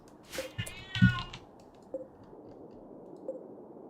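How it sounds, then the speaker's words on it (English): A cat meows twice close by, short and insistent, followed by a couple of faint clicks in an otherwise quiet room. "Why are you meowing?"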